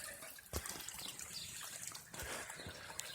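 Water runs and trickles steadily nearby as it drains out of a crawfish trap's holes back into a pond, with a few louder splashes and gurgles breaking through the continuous flow.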